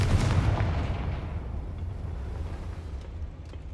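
The Confringo blasting spell exploding in Hogwarts Legacy: a heavy, booming blast at the start that rumbles and fades away over a few seconds.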